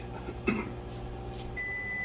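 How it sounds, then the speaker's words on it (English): A faint electronic microwave beep, signalling butter melted for lobster, rings out steadily toward the end over a quiet room hum. "That's the microwave going off right now for the lobster."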